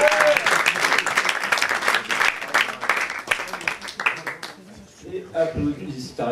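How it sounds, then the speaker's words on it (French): A crowd applauds a poet at a Paris slam poetry event. Dense, steady clapping fills most of the clip, then fades out as a voice begins speaking near the end. "Applaudissez Asténique."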